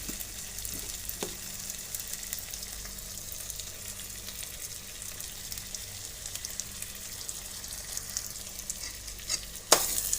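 Potato curry (aloo bhaji) seasoned with black pepper and coriander powder is stirred in a pan, giving quiet scraping and a soft, low sizzle, with a sharp clink near the end.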